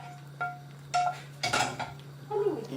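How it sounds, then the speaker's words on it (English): Okro ogbono soup being stirred in a cooking pot, a few soft scraping clinks and sloshes of the spoon against the pot at close range over a steady low stove hum. "And stir it together."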